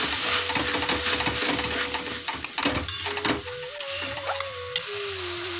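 Spice paste for an egg curry frying in a pan, a loud continuous sizzle with scraping stirring knocks and a thin rising whistle-like tone near the end, close up, no speech.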